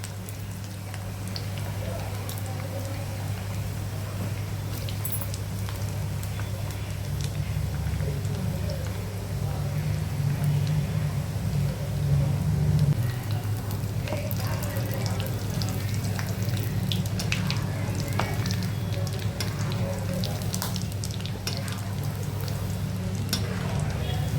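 Eggs fry in a pan for a quick egg gravy, with a steady, continuous sizzle and crackle over a low hum that lasts throughout.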